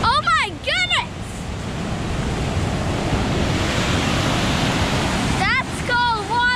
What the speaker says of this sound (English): That's called waterfall right there